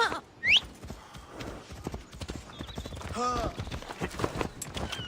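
Horses clip-clop and canter in the Assassin's Creed Odyssey video game, with rapid rhythmic hoofbeats, a brief whinny and game effects, while a voice speaks over the scene.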